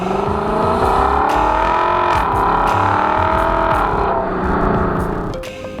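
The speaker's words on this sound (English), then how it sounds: "The piped-in engine sounds make the interior sound as good as the exterior." A 2021 Lexus LC 500 Convertible engine revs and drones continuously, its pitch rising and falling as it accelerates, heard from inside the cabin with piped-in engine sound.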